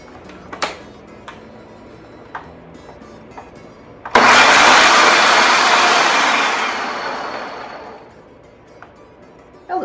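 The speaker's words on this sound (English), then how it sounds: "So we're gonna put those in our food processor." Food processor pulsing rinsed, drained chickpeas, a single loud whirring burst that starts abruptly and fades out over several seconds, with quiet kitchen clicks before it.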